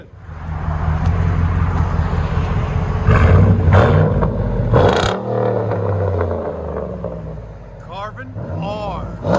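Loud, throaty V8 revving from a Ford F-150 SVT Raptor 6.2L fitted with Carven R dual exhaust, sustained roaring pulls with a sharp peak midway, people talking over it.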